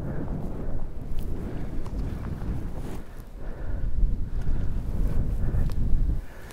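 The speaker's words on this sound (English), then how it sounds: "A lot windier than I thought it was gonna be." Gusty wind buffets a microphone on an open field during a cold bow hunt, a low rumbling roar that swells and eases in waves, close and with no voices.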